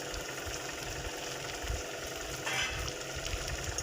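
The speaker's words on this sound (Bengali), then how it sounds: "যখন একটু ভাজা হবে তারপর দিয়ে দেবেন আপনারা কেটে রাখা আলুগুলো" Bitter gourd and sliced potatoes frying in oil in a pan, a steady close sizzle with faint crackles and scraping stirs, a brief louder burst partway through.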